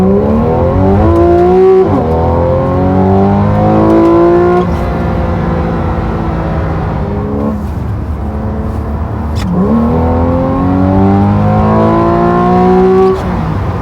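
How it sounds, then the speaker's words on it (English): A Porsche 911 of the 991 generation with PDK transmission accelerates hard, its engine note climbing through several quick gear changes, loud and close with rising pitch after each shift. "Let's go ahead and take a look at me accelerating in the"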